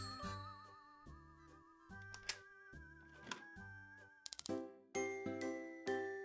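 A doorbell rings in the video game Demetrios, with bright chiming dings that cut through looping game music near the end of the clip.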